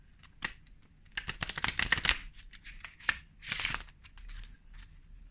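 Hands shuffle a deck of Adinkra affirmation cards with quick, crisp riffling bursts and soft flutters, some pauses between them, heard close and fairly quiet.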